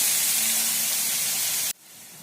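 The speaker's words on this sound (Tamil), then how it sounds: "இப்போ நான் மூணு தக்காளி அரைஞ்சி வச்சுருக்கேன் அதை நான் சேர்க்குறேன் சேர்த்துட்டு நல்லா வதக்கி விடுங்க" Ground tomatoes tipped into a pan of frying onions for a Tamil lentil-ball kuzhambu, giving a loud, close, broad sizzling hiss that cuts off sharply partway, leaving a quieter background hiss.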